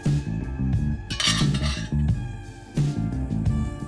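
Browned meat is lifted out of a cooking pot for a wine stew, with clinks of a utensil against the metal pot over soft background music.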